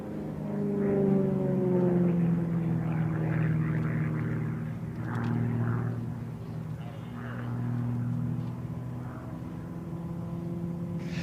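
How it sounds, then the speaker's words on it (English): GB-1 Gamebird aerobatic propeller airplane flying at an air race championship, a steady droning engine hum with shifting pitch, moderately distant and continuous throughout. "The GB-1 Gamebird is an FAA Aerobatic Category Type certified aircraft produced under FAA production certificate."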